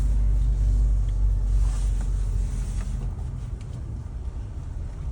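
Off-road vehicle with electric power steering driving a course at a country fair in Galloway, a steady low engine rumble close by throughout, easing slightly in the second half, with no talk.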